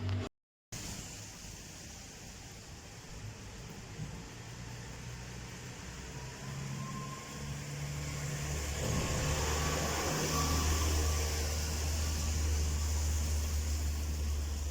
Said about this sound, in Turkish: Dışarıda çekim yaptığım için bayağı gürültü var cadde üzeri arabalar geçiyor.